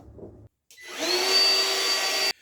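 A power saw cuts lines into wood for a spice rack with a blade depth of a quarter inch, spinning up after a short pause into a loud, steady whine for under two seconds before stopping abruptly.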